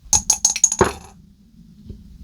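Dice tumble across a hard surface in a quick series of four or five sharp clattering impacts, ending with a final heavier knock before falling quiet, close and clear with no voices.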